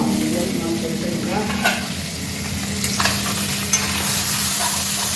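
Fish fries in a little oil in a wok, a steady sizzling hiss running throughout with a few sharp clinks of a utensil, close and fairly loud, no voices.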